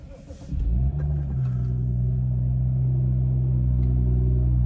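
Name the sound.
BMW M235i 3-litre six-cylinder engine starting, exhaust rumble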